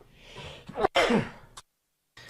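A single sharp sneeze, close and sudden, preceded by a quick breathy intake, then silence.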